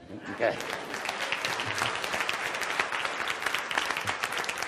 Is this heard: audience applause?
yes